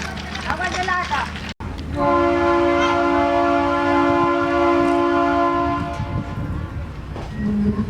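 A train in northern Mozambique sounds a long, steady horn blast lasting several seconds as it arrives, over a rumbling running noise, with a voice speaking before and after.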